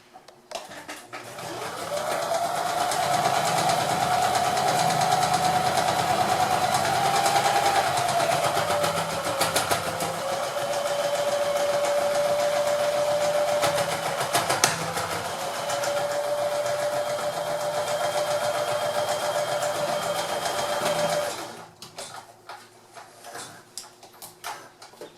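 A sewing machine stitches the cover of a lunch bag in one long continuous run, a steady close whirring motor with a faint rising and falling whine, then stops abruptly near the end.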